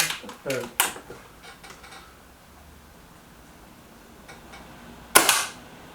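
Kral Jumbo Hi Cap air rifle firing a single sharp, close shot near the end, preceded by a few small mechanical clicks and handling taps in a quiet setting.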